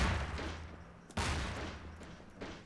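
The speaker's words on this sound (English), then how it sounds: "Oh, that's the bomb." A bomb going off in the Gmod Melon Bomber game, with a loud broadband blast that decays, then a second burst about a second later, close and fairly loud.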